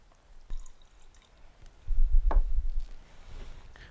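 Hexanes are poured into a beaker of silica gel in a chemistry lab, a short, soft liquid splash and trickle swelling for about a second amid quiet room noise and a few light knocks.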